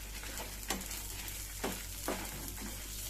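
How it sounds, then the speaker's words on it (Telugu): Dried red chillies and curry leaves frying in oil for coconut chutney powder, a steady close sizzle broken by a few sharp scraping stirs of a spoon in the pan. "ఇప్పుడు దాంట్లోనే ఒట్టిమిరపకాయలు వేసుకోవాలండి. అవి దాంతోపాటు వేగిపోతాయి అన్నమాట."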